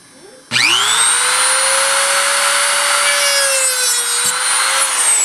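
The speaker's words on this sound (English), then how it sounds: "all I'm doing is resting the moto tool on the track and just pivoting down real quick." A rotary moto tool cutting a gap in model railroad track spins up abruptly to a loud, steady high whine that stays nearly constant for several seconds, dipping slightly as it bites into the rail, with no talk.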